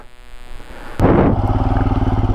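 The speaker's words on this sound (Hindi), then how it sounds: "बाइक अपनी फंस गई" Motorcycle engine revving while the bike is stuck in sand near Kuldhara village in Rajasthan, a loud pulsing engine roar that surges suddenly and keeps a rapid throbbing rhythm.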